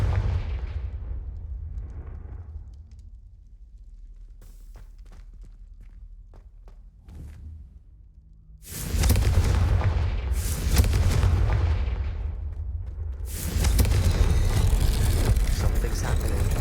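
Confringo blast spells explode in the Hogwarts Legacy video game: quiet footsteps and faint knocks first, then a heavy booming blast rolls in, followed by another loud burst of explosive rumble.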